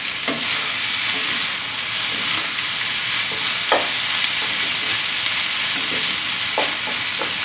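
Moo shoo chicken with tofu and cabbage sizzles steadily in a hot pan, with a few sharp clinks and scrapes of the utensil as it is stirred down to the bottom.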